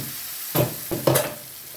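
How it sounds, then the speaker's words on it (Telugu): A few scraping stirs in a pan over a soft sizzle of ground curry leaf chutney frying, two or three strokes close by, with no talking. "దీన్నంతా ఒకసారి కలుపుకుంటూ మనం ఒక్క నిమిషం పాటు వేయించుకుంటే చాలండి"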